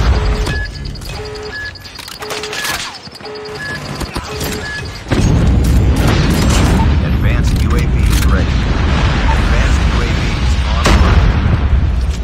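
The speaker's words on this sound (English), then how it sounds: "Repeat, friendly nuke has been launched." A tactical nuke detonates in Call of Duty multiplayer: after beeping countdown tones a sudden massive roaring blast erupts and rumbles on loudly and continuously, with game voice announcements heard alongside.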